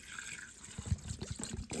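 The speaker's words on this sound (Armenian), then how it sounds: "Եվ մի փոքր էլ ավելացնում ենք ջուր։" Water poured in, heard as a brief, soft trickle and splash lasting under two seconds.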